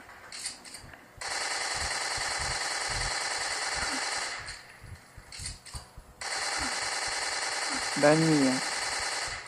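Sustained bursts of rapid automatic machine gun fire in the PS2 video game Metal Gear Solid 3 online, two long loud volleys with short pauses, alongside a brief spoken remark and a rising electronic tone.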